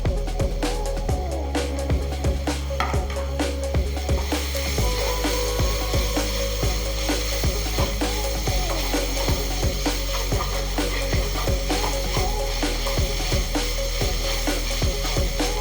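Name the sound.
green chillies sautéing in pan for chicken curry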